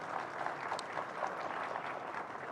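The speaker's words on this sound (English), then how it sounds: "A round of applause for all the experts," Seminar audience at a business summit gives a round of applause for the panel experts, a soft, distant, steady patter of clapping throughout.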